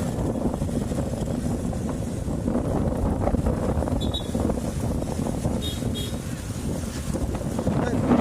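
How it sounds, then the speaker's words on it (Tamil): Strong wind roars steadily across the microphone while riding a vehicle from Chennai toward Madhavaram just before heavy rain, loud and unbroken throughout, with a voice speaking over it. "சரியான காற்று."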